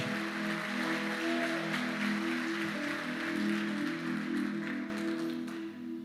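A church congregation at an evening conference service applauds. A dense, steady wash of clapping runs under sustained music throughout.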